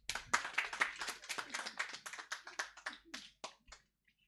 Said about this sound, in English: let me see if you'll also clap for Atmango